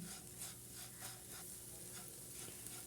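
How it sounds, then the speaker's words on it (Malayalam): Spoon stirring powdered jaggery into a mashed banana mixture in a hot pan, a soft steady scraping and faint sizzle, low in level with no talking. "എല്ലാം കൂടി ഒന്ന് മിക്സ് ചെയ്ത് കൊടുക്കാം"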